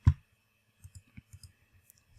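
A computer mouse gives one sharp click, then a brief pause and a quick run of softer clicks, all near and isolated against a quiet background.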